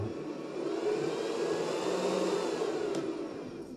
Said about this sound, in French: Donc ça c'est juste le ventilateur.